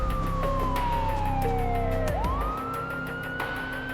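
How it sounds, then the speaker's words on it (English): A loud wailing siren sweeps down in pitch, then rises again into a long rising tone, with a low rumble underneath that fades midway. "When the sirens sound, there are only seconds to run."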